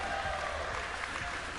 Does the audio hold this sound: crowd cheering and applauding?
yes